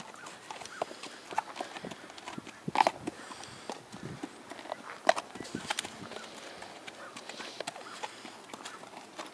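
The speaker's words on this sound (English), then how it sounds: "Big, pretty horse." A big horse walks at a steady pace, its hooves clip-clopping in an even rhythm of soft, fairly close thuds against faint background noise.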